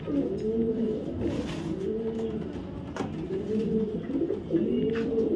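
Racing pigeons in a club loft give repeated soft, rolling coos in a steady rhythm, close by and fairly loud, with several birds overlapping and no talk.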